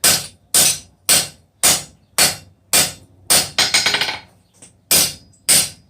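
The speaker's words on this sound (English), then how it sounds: "you want to hit it lighter and lighter to take out your hammer blows" Sharp metallic hammer strikes on hot steel ring out one after another at a steady pace on an anvil while forging a bick iron, with a rapid flurry of lighter taps near the end.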